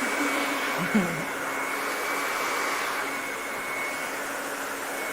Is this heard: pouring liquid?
no